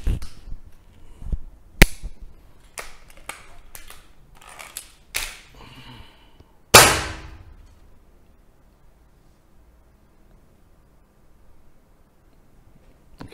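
A series of sharp, separate airgun shots fired through a chronograph at irregular intervals, the last one loudest, followed by quiet.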